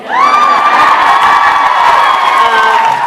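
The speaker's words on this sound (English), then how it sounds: "So funny that gets a cheer." A convention audience at a fan panel breaks into loud, sustained cheering and whooping that fills the room steadily for about three seconds, with many voices shouting together.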